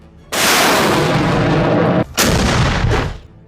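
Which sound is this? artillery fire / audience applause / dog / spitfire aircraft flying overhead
artillery fire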